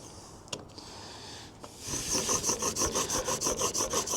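A chisel blade is rubbed by hand against a sharpening surface on a job site, a steady rhythmic rasping stroke repeated back and forth about a dozen times, close and clear with nothing else over it.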